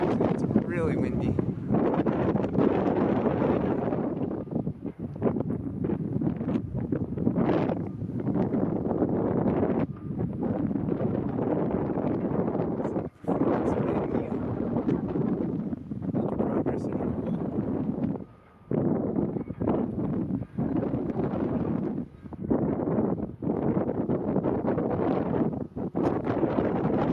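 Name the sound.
strong wind blowing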